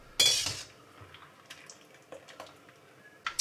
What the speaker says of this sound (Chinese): 控水捞出来备用。